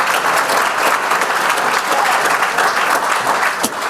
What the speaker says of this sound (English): Let's clap it up for Amy Bramlett Turner one more time